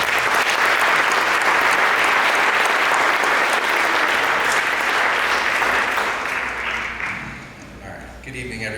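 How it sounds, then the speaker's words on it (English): Audience applause at a school winter and spring sports awards night, loud, dense clapping that holds steady for about seven seconds before thinning and tapering off at the end. "Let's give them a round of applause."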